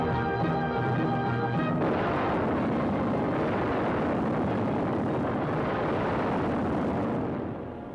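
Bombs explode in a 1943 World War II film: after a brief tonal passage, a loud, sustained rumbling barrage of deep blasts rolls continuously for several seconds and then cuts off abruptly.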